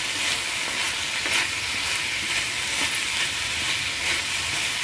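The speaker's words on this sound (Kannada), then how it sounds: "ಈಗ ಕೈಯಾಡ್ತಾ ಇದ್ದೀನಿ." Brinjal pieces being stirred in hot oil, a steady broadband sizzle and frying crackle running continuously and fairly loud, with faint scraping strokes of the stirring spoon mixed in.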